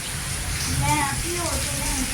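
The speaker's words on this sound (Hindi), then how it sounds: "अभी बारिश कंटिन्यूसली हो रही है" Heavy, continuous rain pours steadily during a downpour, with water gushing through a drain nearby; a dense, even hiss fills the whole stretch while a voice talks over it.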